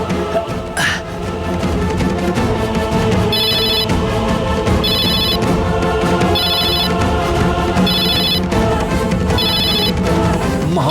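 A telephone ringtone sounds at regular intervals, loud and close, over an ongoing musical background score in a Bengali TV drama scene.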